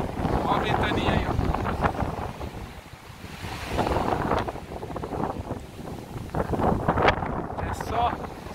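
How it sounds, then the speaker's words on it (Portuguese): Strong gusting wind roars across the microphone at a beach in Balneário Camboriú, with surf rumbling underneath and a person speaking intermittently throughout. "Olha a ventania aí, ó."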